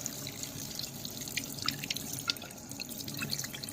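Water falls from a height onto a jet boat impeller in a simple efficiency test, giving quiet irregular splashes and drips over a soft continuous trickle.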